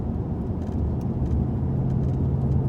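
Steady in-cabin drone of a Chevrolet Impala SS engine on a track course with cones as the driver eases off the throttle, a smooth low hum holding level without revving.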